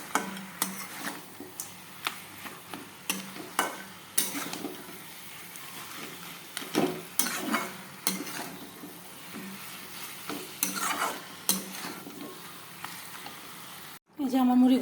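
Fish heads frying and being stirred with spices in a pan, a steady low sizzle broken by repeated scraping stir strokes and clinks, close and fairly quiet, ending with a louder burst near the end.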